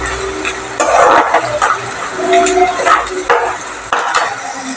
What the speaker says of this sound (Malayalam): നമുക്ക് നല്ലോണം വഴറ്റിയെടുക്കാം സവോള